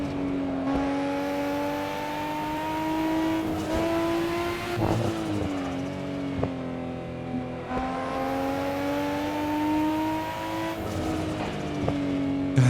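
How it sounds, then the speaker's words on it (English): A Nissan Skyline GTR R34 engine revs in the Assetto Corsa racing game at the Nurburgring, a steady humming drone that rises and falls through gear changes, with a couple of sharp upshifts and sustained high revs. "God, these engine sounds are so good."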